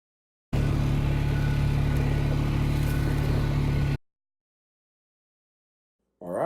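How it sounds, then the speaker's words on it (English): A quad engine drones steadily and loudly for about three seconds, a constant mechanical hum that cuts off abruptly into silence, then a brief rising burst returns at the end. "You just literally hear the noise of the quad."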